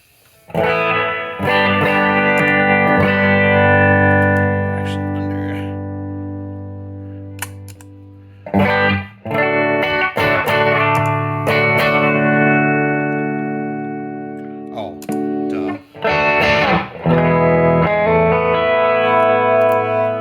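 Electric guitar run through a Chase Bliss Brothers effects pedal, sustained distorted chords washed in reverb and ringing out, with a couple of short pauses between phrases.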